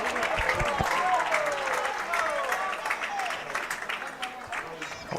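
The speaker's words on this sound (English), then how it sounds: "A round of applause there for the Mustangs faithful." Crowd applause and cheering for the Mustangs at a high school baseball game, a burst of clapping that is loudest at the start then gradually thins out, with scattered whistles and voices mixed in.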